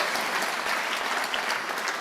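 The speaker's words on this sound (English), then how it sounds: "let's give the speakers a round of applause" Steady audience applause at a ribbon-cutting event, a dense wash of clapping from a crowd filling the space evenly throughout without talk.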